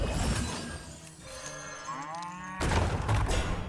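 A cartoonish cow moo from the Cash Cow card in the Hearthstone video game, a loud drawn-out lowing call followed by a thud-like game effect.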